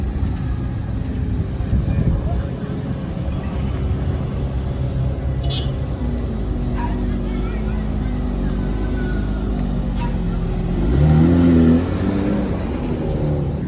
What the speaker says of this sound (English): supercars will just roll in non-stop